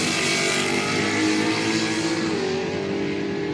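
Orange and black GTS drag racing a 308 at a quick street event, a loud, sustained engine roar with rising revs as the cars accelerate, no talk.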